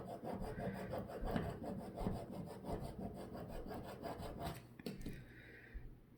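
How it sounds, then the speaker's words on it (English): A tool scrapes vinyl off its backing sheet for a Christmas ornament, giving a steady close rasping rub with quick repeated strokes before a short pause and a softer finish. "keep scraping till you get it out"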